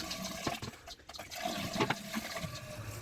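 Water trickles and gurgles into a car intercooler being flushed during cleaning, a faint irregular splashing with small bursts and drips and no talking.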